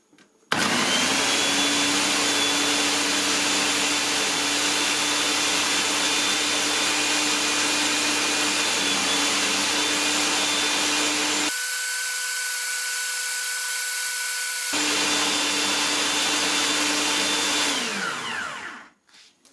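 An electric food chopper on its chopping setting blends garlic, two ripe avocados, oil and guacamole spices: a loud, steady motor whine runs for about eleven seconds, briefly changes to a higher, thinner tone, then resumes and winds down to a stop.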